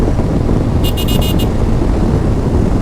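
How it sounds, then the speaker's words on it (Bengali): A GPX Demon motorcycle cruising fast on a highway gives a constant loud, wind-buffeted engine and road roar, and a quick run of about five high beeps cuts through briefly. "আমি বাইক চালাচ্ছি হান্ড্রেড প্লাস চালাতে হচ্ছে আমাকে"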